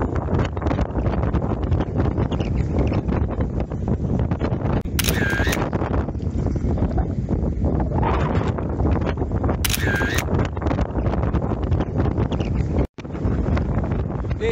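Fierce wind buffets the microphone on an exposed Scottish hilltop, a loud, constant roar that runs unbroken throughout with no talking.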